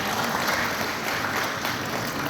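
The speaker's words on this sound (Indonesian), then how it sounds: "Tepuk tangan dulu." Sustained applause from a school graduation audience at Alexandria School, a steady dense clatter of many hands filling the hall without pause.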